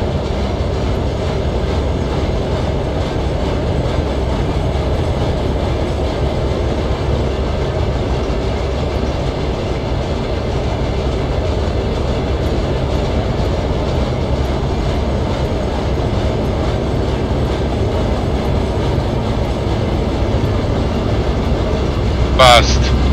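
A train in the Trainz game rolls along the tracks with a dense, steady rumble and rattling clatter, loud and continuous, while someone talks intermittently over it.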